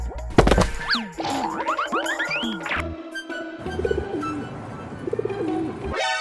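A baby pigeon coos amid bright chirpy calls and boing-like cartoon sound effects in a household comedy scene, the sounds close and lively throughout.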